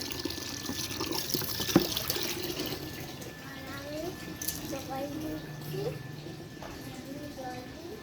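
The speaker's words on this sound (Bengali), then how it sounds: "আগে গাছে জল দিচ্ছি" Water splashes onto dry soil as potted plants are watered, a continuous soft gushing heard close by, with a person talking over it.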